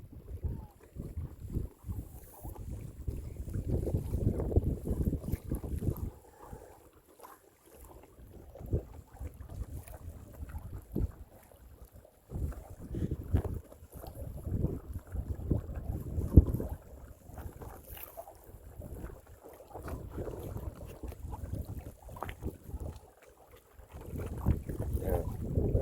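A motorboat runs across Rattlesnake Lake, its low engine rumble steady and close, with wind buffeting the microphone and a few faint voices underneath.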